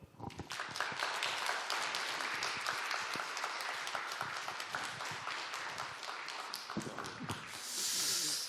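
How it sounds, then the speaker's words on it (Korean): A church congregation claps steadily, sustained applause welcoming a pastor and filling the room for several seconds before it tapers off. "환영하는 마음으로 우리 박수로 맞이해 주시기 바라겠습니다"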